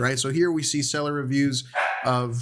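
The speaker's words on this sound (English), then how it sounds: "sorry, that's my dog" A pet dog barks in the background while someone talks steadily over it, the barks partly masked by his voice.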